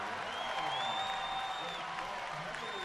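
A basketball crowd at a Vermont versus Harvard game roars steadily after a slam dunk, a dense, sustained cheer with whistles and shouts filling the arena, a commentator's voice faint beneath.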